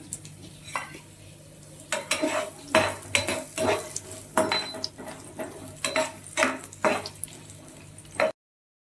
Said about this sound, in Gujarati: પછી આ ડુંગળી નાખી દઈશું.